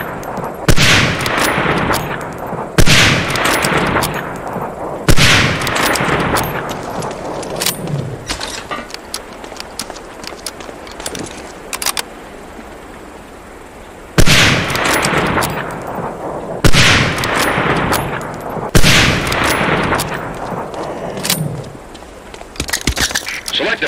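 Springfield 03 sniper rifle shots in the Medal of Honor: Allied Assault tutorial, seven or so loud, sharp reports spaced several seconds apart, each followed by a fading echo.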